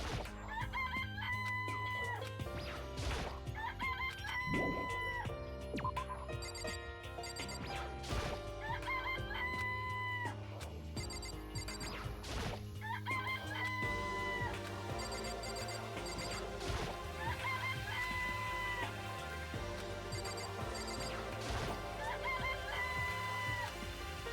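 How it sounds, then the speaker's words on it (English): Chickens clucking and a rooster crowing in the Danganronpa: Trigger Happy Havoc video game, repeated calls layered over steady game background music, with no talk. "There's chickens here."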